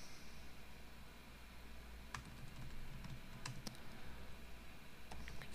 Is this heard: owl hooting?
no